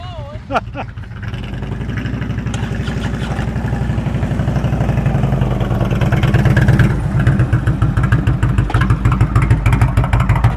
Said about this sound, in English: you can definitely hear when your engine is not high enough